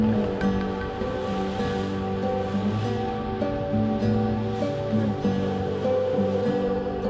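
Ocean surf surging in and out of Thor's Well, a collapsed sea cave on the Oregon coast, as a steady, loud wash of churning water with no clear pauses.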